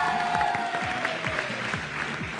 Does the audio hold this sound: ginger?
no